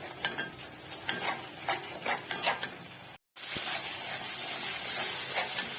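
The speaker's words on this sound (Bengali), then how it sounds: "তেলটা যতক্ষণ না ছাড়ে ততক্ষণ এটাকে আমি কষাতে থাকবো।" Masala for dhokar dalna is stir-fried in oil, a dense close sizzle with repeated rhythmic scrapes and clinks of a spatula against the pan, a short break, then steady frying without talk.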